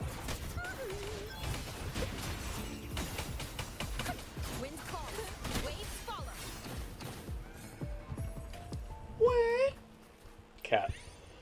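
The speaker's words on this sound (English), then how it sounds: "Cat." A cat gives a couple of short, faint meows near the end, following a stretch of busy game sound and music with a voice talking.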